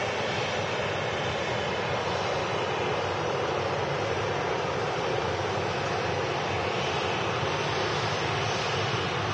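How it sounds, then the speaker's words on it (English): A Ryanair Boeing 737-800 departing Manchester for Malaga gives off a steady, unbroken jet roar that stays loud and even throughout, with no voices. "This Ryanair heading out to Malaga."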